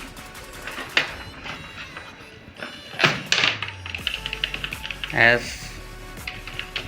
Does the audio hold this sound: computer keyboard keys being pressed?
yes